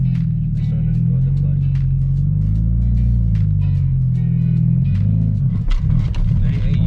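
Manual car with a racing clutch pulling away in first gear, a steady close engine rumble with a rising rev near the end, under continuous talk.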